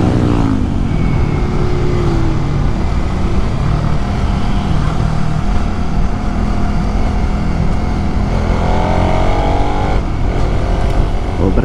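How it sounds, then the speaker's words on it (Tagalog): Vehicle accelerates to overtake on a two-lane mountain road near Marilaque, a loud continuous engine and wind roar with rising engine tones as it speeds up, close and steady throughout. "Overtake natin to dahil 2 lane naman."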